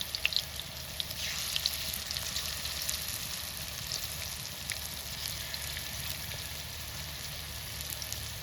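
Soybean pakoras sizzle steadily in hot oil, a dense, even crackle with occasional sharper pops, close and continuous with no talk over it.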